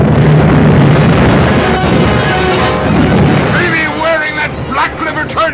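Ship cannon fire aboard sailing vessels in a 1942 pirate film, a loud booming blast with rumbling wind and sea noise, followed by shouting voices.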